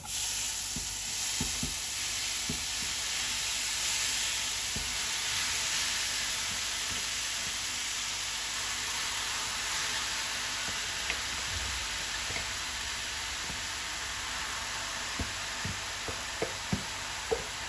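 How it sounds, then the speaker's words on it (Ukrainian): Steady, loud sizzling of grated apples in a hot frying pan, a constant hiss with occasional soft clicks and knocks as they are moved around. "І тепер висипаю все сюди в розгріту сковорідку"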